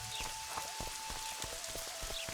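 Rain falling in the Witcher 2 game world, a soft steady patter with scattered individual drops at low volume, along with a faint steady tone, no voices.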